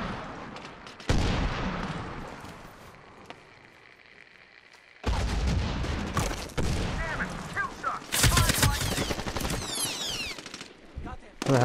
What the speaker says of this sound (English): Where the hell was somebody shooting at me from?